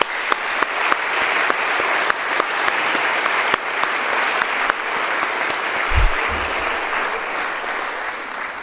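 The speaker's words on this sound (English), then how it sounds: "Can we please give them a round of applause?" An audience at a president's speech gives sustained applause, with steady crowd clapping sharpened by individual close claps and a single low thump near the end.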